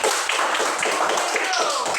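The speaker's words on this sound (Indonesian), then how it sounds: "sekarang tepuk tangan untuk kelompok ini" A class claps for a student group in an Indonesian school lesson, a brief burst of many hands applauding close by, with voices mixed in.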